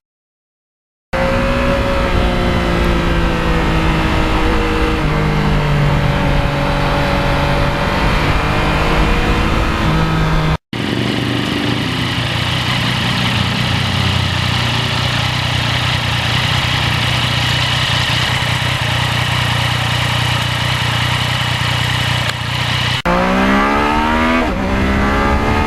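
A 2020 Yamaha MT-09 motorcycle engine runs continuously while riding, loud and close, with rising and falling revs through gear changes and a brief cut partway through.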